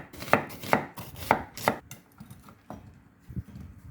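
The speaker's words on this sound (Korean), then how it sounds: "양파는 약 2cm 간격으로 잘라줍니다." Knife chopping half an onion into pieces about 2 cm apart on a cutting board, four crisp evenly spaced thuds followed by a few softer knocks, close and with no talk.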